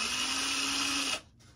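A handheld drill whines at high speed while boring through a hole to fit LEDs on a model Mosquito aircraft, then cuts off abruptly, leaving quiet room tone.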